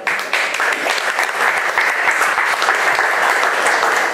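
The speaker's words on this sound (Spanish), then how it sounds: "Un aplauso, por favor." A congress audience at a regional Alcoholics Anonymous meeting in Morelos breaks into loud applause, a thick, close crackle of many hands clapping continuously at even strength throughout, with no speech.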